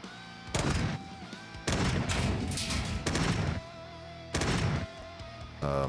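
Gunfire in the sci-fi tactical game Quasimorph: four loud bursts of rapid shots, each about half a second long, separated by a steady hum of game ambience, with a final burst cut off at the end.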